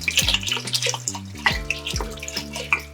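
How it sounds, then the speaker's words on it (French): Cold water poured from a tap into a pot of lentils for cooking, a steady splashing stream broken by bubbling, gurgling drops, close and moderately loud with no talking. "on va rajouter de l'eau pour couvrir les lentilles jusqu'à 1 cm à peu près"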